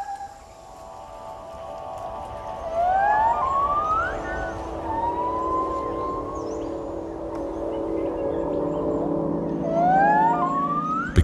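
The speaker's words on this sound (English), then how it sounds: "They've discovered that the hour before sunrise is the perfect time for their duet." A pair of gibbons duetting in forest before sunrise: rising, swooping whoops repeated several times over a steady wash of dawn insect and forest noise, moderately distant and resonant.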